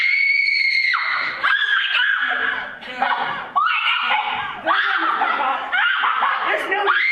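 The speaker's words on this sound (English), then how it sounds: "The screams are coming from the middle of the room." Actors scream on stage during a school theater production of Clue, several loud overlapping shrieks and wails in bursts, mixed with nervous laughing.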